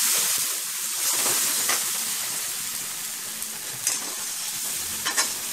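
Ground poppy seed and cashew paste with turmeric sizzles and hisses steadily in hot oil for potato curry, while a spoon scrapes and stirs it in the pan with occasional sharper clinks.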